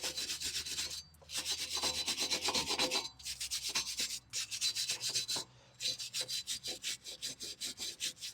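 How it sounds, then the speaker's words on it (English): Rhythmic, steady scrubbing strokes on metal as surface rust is cleaned off the front brake mounting points of a 2018 Honda CR-V, close and continuous with brief pauses between passes. "We're just going to clean up all the surface rust here on all the mounting points"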